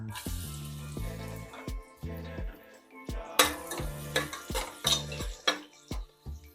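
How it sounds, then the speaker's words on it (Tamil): Onions frying in hot oil inside a pressure cooker, a soft sizzle broken by repeated metallic clanks and scrapes of a spoon stirring against the pot, close and uneven, no talking. "எண்ணெய் நல்லா சூடாயிடுச்சு இப்போ இதில் வெங்காயம் சேர்த்துடலாம்"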